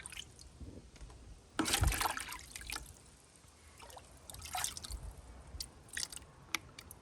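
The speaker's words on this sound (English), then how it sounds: "go around and just put pond water in here." Pond water is poured into a container holding plants for medaka rice fish, giving a splashy pour followed by softer trickles and drips close by, faint and intermittent.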